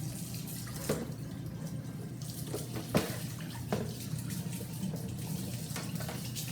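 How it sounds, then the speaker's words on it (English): Water from a tap rinses steadily over a coil, a soft continuous hiss and patter with a few faint knocks and splashes along the way. "Rinse off that coil on the back side"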